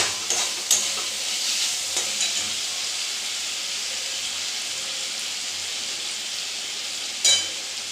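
Potato and pointed gourd curry cooking in a pan, with a steady close sizzle of frying and a few sharp clinks of a stirring spoon at the start and near the end, no voices.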